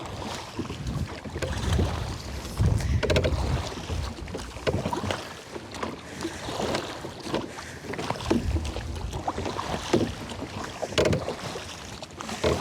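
Oars work a rowing boat through a choppy sea with seaweed about. Water sloshes and splashes continuously under gusty wind buffeting the microphone.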